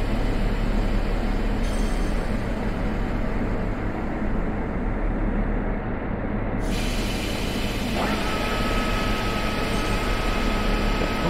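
A G6 shunter locomotive shoves rail cars in Train Sim World 2, giving a steady, dense rumble of engine and rolling noise with a brief hiss and tonal shifts partway through. No one speaks.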